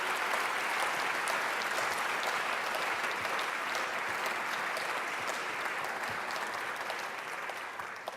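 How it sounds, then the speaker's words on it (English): A large audience at a human rights prize ceremony gives sustained, dense applause for a family in attendance, an even roar of clapping that holds steady without voices standing out. "I think we should give a round of applause to the entire Lantos family here today"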